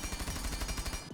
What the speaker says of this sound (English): here it is with no muzzle attachment, 5 meters, no control